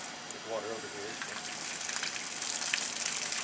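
Water gushes and hisses steadily through a pipe after a valve is opened, a continuous broadband rush that grows slightly louder toward the end, with a brief faint voice-like murmur early on.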